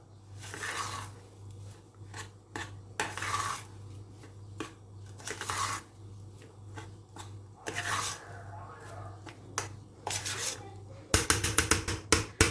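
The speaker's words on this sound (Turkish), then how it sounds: "Şöyle karıştırıp kıvamına bakacağım" A spoon scrapes and stirs through thick pudding in a pot with chocolate biscuit mixed in, giving repeated rasping strokes with short pauses and a faster burst of scraping near the end, over a steady low hum.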